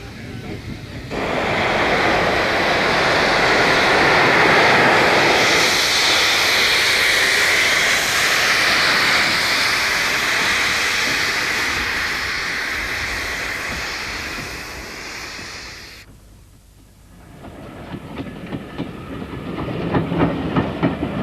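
Steam trains on a busy heritage railway roar past close by in a long, loud wash of hissing steam and rolling wheels, easing off and then returning with rhythmic chuffing and clicking, no talk.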